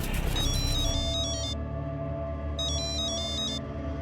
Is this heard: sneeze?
no